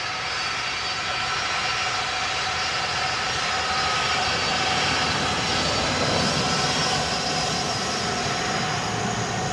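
An aircraft takes off from runway 10 right at Dublin Airport, a sustained, loud engine roar with a steady whine that holds constant throughout.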